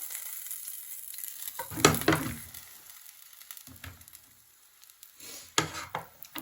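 Sujuk sausage frying in a pan, a quiet crackling sizzle with a few louder bursts as pieces are added and moved, otherwise mostly faint and close.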